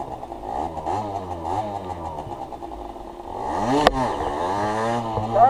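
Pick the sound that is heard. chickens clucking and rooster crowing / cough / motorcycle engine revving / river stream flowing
motorcycle engine revving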